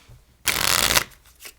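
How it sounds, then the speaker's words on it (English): A deck of playing cards given a false shuffle, a single close riffle lasting about half a second, crisp and loud, alone with no talk. "If you want to, you can do some false shuffles."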